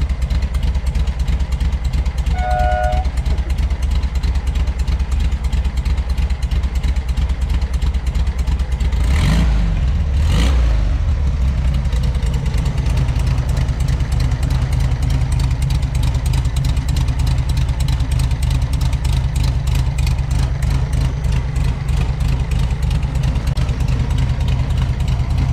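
A 1964 Volkswagen Beetle engine with a Porsche exhaust runs continuously with a loud, rapid pulsing beat close by, briefly revving around the middle and then settling back to a steady idle.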